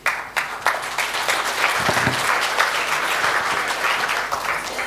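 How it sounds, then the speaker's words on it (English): Sustained applause from a conference audience after a panel discussion, steady dense clapping filling the whole stretch with no voices over it. "A round of applause, ladies and gentlemen, for all of our insightful presentations and thoughtful discussions"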